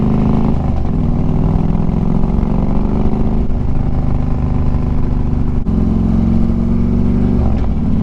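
A Harley-Davidson Street Glide with Vance & Hines True Duals exhaust rumbles loudly and steadily at close range, with a deep continuous engine drone and slight shifts in pitch across the clip.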